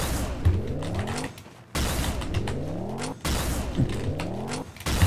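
Three evenly spaced railgun shots in a Quake-like arena on the dm_imperial map, each a sharp blast followed by a rising whirring charge-up tone, loud and close.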